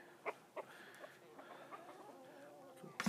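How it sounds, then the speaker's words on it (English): Chickens cluck and murmur close by, a few sharp clucks standing out over soft continuous chatter from the flock. "So I've got a few holdover meat birds here."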